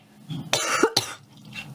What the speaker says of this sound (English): You hate to see these cough attacks.